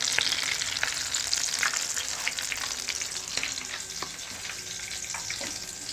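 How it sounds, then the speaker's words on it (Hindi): Chicken and potato shami kabab patties fry in oil with a steady, close sizzle and scattered crackling pops throughout, with no voices. "चलिए अब इसी तरह हम बाकी की भी डाल लेते हैं और फ्राई कर लेते हैं।"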